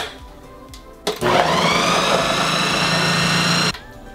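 A countertop blender juices celery, starting abruptly and roaring loudly at a steady high speed for a few seconds before cutting off, with quieter kitchen sounds around it.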